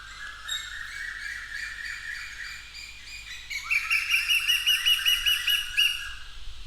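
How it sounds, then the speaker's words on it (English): Birds chirp and squawk around a residence, a busy chorus of repeated high calls that grows louder and denser partway through, with no talk. "I'm staying in a place where there are a lot of birds around"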